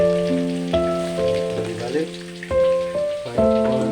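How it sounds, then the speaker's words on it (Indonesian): Mackerel frying in oil gives a steady crackling sizzle throughout, partly masked by louder sustained melodic tones. "Ikan kembung yang digoreng tadi sudah dibalik"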